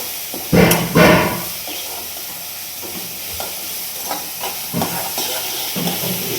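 Okra fries in a pan with a steady, close sizzle and hiss, broken early by a couple of loud stirring clatters and later by softer scrapes and knocks of the utensil against the pan.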